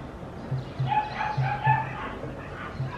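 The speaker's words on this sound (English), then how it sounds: "dogs barking." Several dogs bark at a distance in irregular bursts, heard from a rooftop in Marrakech, Morocco, with faint low drumming thudding underneath.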